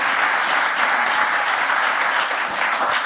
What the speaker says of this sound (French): un maximum de bruit pour Monsieur Sauce qui est à la régie